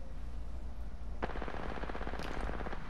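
Automatic gunfire in the shooter game Apex Legends, a sharp shot onset followed by a rapid, steady burst of rounds continuing to the end, over constant in-game background noise.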